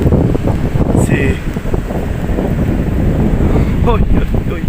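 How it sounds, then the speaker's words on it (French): Strong wind at Narbonne-Plage beach buffets the microphone in a heavy, steady rumble that runs throughout, with a voice briefly heard under it. "Le vent qu'il y a."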